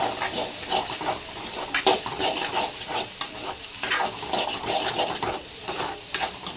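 Three medium tomatoes fry in a pan during chicken cooking, a close hissing sizzle marked by repeated stirring scrapes and clacks in an uneven rhythm, with no voices.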